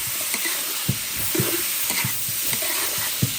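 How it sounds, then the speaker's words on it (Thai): Fried rice stir-fried in a pan, a steady sizzling hiss broken by repeated clanking scrapes of a spatula against the metal in an irregular rhythm. "ผัดข้าวผัด"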